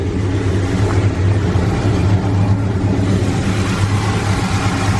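Original 350 V8 in a 1969 Pontiac LeMans idling, a deep steady rumble with a low throbbing pulse, close and loud, running alone without voices.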